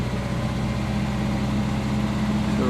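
A warmed-up car engine running steadily with a low, continuous drone and a slight rise in pitch near the end as it is revved, no talking.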